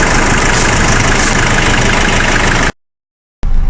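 A Nissan Navara engine runs loud and close, its RE5R05A automatic transmission shifting through the gears with coolant contaminating the fluid; a constant rumbling drone cuts off abruptly into silence, then resumes briefly.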